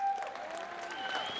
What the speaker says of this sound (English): A big applause for John Kallenbach and Kevin.